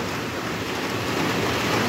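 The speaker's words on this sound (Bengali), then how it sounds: "দেখুন কত বৃষ্টি শুরু হয়ে গেছে" Rain that has just begun falling at a family home makes a steady broad rushing hiss, fairly loud and unchanging, with no voices.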